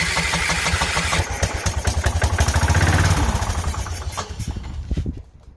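A DLS3500 tractor engine cranks over on full choke with starter fluid, a loud rapid chugging and clattering that catches briefly and surges, then fades and sputters to a stop near the end.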